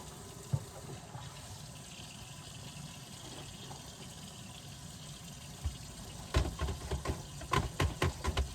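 Tap water runs steadily into a kitchen sink as soapy dishes are rinsed, a continuous splashing wash broken late by a cluster of louder clatters and splashes close by.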